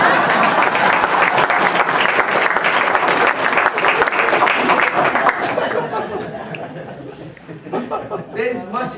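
Loud audience applause with scattered chuckles and chatter fills a campaign kick-off speech for a congressional race, clapping steady for several seconds before tapering off and giving way to murmurs.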